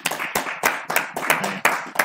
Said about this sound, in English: So if you can applaud her in your private space